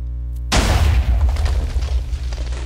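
A TNT cannon fires in a video game: silence, then one sudden loud boom that rolls into a sustained rumbling roar lasting a couple of seconds.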